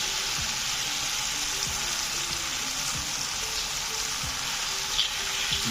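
Chicken roasting in a hot pan, with a dense, steady frying sizzle throughout and occasional soft low thumps and pops, close up with no voices.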